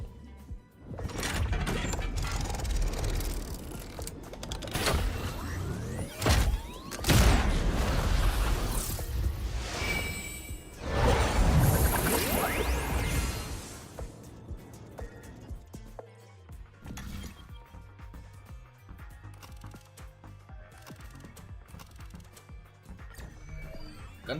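Gunfire and explosions in the Honkai: Star Rail video game, with dense, loud bursts and blasts filling the first half, then thinning into quieter, scattered mechanical clicks and impacts.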